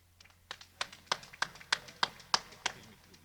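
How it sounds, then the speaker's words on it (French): Hand clapping from an audience at a weapons handover ceremony in Casamance, heard as a short run of about ten sharp, evenly spaced claps at a steady rhythm over a low background hum. "notre frère Henri Neki, qui mérite vos applaudissements."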